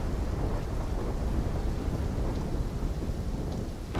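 Thunderstorm in a Call of Duty: Black Ops 3 video game cutscene, steady heavy rain with a deep continuous thunder rumble, fairly loud and unbroken, with no speech.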